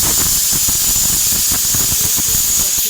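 Pressure cooker whistling loudly and steadily, a sharp high hiss of escaping steam while prawns and greens cook, close and unbroken for nearly three seconds.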